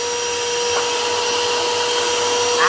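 A Gaocheng professional wet and dry vacuum cleaner runs at full power, making a loud, steady, high-pitched whine of rushing suction air from close range without a break.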